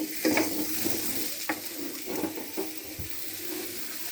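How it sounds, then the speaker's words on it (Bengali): A spoon stirs a potato, papaya and fish curry in a pan just after salt goes in. Soft scraping strokes come at irregular intervals over a steady sizzle, close by and fairly quiet. "দেখো লবণটা দিয়ে একটু নাড়াচাড়া করে নেব।"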